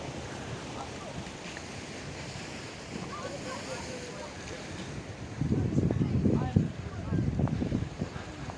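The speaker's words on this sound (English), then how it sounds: "look at the waves as they are hitting the rocks." Sea waves crash against rocks along the Algiers shore under wind noise, building to louder surges in the second half, with someone talking throughout.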